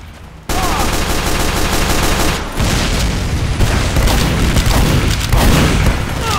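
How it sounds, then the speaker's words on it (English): Rocket blast in a Team Fortress 2 style game: a heavy boom hits suddenly and stays loud, rolling into a dense wash of gunfire and explosions with bursts near the middle and the end. "Tomou um rocket."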